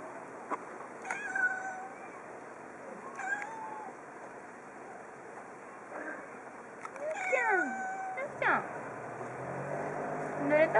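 A cat meows several times in short, high, bending calls spread across the stretch, moderately close, while a person talks softly in between.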